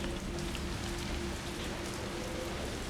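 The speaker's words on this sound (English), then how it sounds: "because it's raining." Steady rain in the Resident Evil 3 video game, a dense, even hiss of drops striking surfaces that stays constant and fairly quiet throughout, with no talking.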